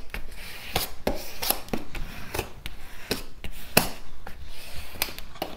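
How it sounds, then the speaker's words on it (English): Paper burnished down onto a craft mini album page gives a series of short, close rubbing and scraping strokes in an irregular rhythm, fairly quiet with no voices. "burnish that down really well"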